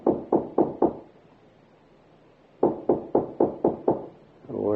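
Knocking on a wooden door in a radio drama: a close, loud burst of four evenly spaced knocks, a pause of near silence, then five more knocks in the same steady rhythm.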